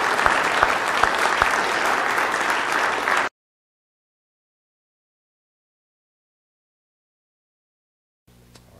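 An audience congratulating Tracy and Laura with loud, steady applause from a crowd for about three seconds, then abrupt silence before faint room sound returns.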